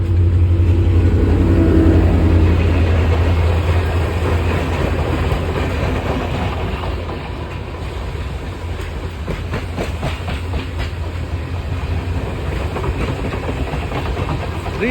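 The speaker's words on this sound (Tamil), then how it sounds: "ட்ரெயின் ஆடுது கட கட கட கட கட கட ஆடுது" A passenger train rattles along the rails beside the sea in Colombo, with a steady rolling rumble and rapid clickety-clack of wheels over joints, close and continuous throughout.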